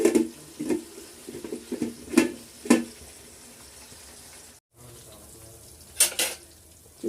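Tomatoes cook in oil for a fish curry with tamarind, giving a soft sizzle under intermittent clinks of a spoon stirring in the pan, a brief silent gap, then more stirring clatter.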